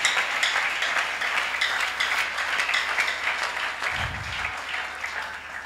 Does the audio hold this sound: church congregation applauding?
yes